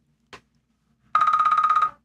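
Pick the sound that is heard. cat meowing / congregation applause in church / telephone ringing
telephone ringing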